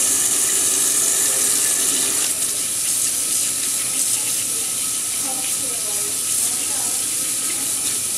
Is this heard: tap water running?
yes